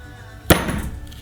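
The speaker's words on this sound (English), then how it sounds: "We're going to give it a little bump from the brass hammer." A single sharp metallic tap rings out once, close up, as a brass hammer bumps a snap ring into a 3rd-generation Toyota 4Runner U-joint, against quiet background hum.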